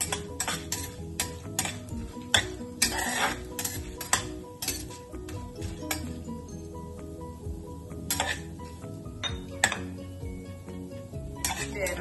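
Utensils clink and scrape against pots and a bowl as fried tempering for a brinjal ginger-chili curry is moved over, with faint sizzling underneath; clatters come in irregular bursts close by, with no talking.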